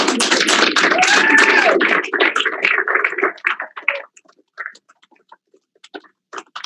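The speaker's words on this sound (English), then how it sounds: "So will you please welcome up, give a big round of applause to the CEO of Nui, Darren Owen!" A burst of dense applause from a crowd at a company business call fades over a few seconds into scattered individual claps.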